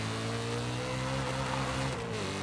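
In the Forza Horizon 5 video game, a car engine holds a steady, loud, droning rev during a drift, its pitch sagging slightly at the very end.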